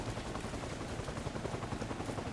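A dense, steady helicopter rotor roar from the game Arma Reforger fills the whole clip, loud and close, with a fast choppy pulse and no pauses.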